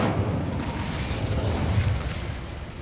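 A fiery Incendio spell blast in Hogwarts Legacy, a deep rumbling burst that roars loudly and holds steady for a few seconds before easing slightly.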